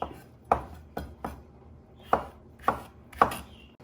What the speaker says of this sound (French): on va commencer à couper les courgettes en petits morceaux comme ça